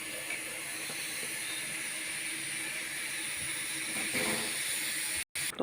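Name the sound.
luchi frying in hot oil in a karahi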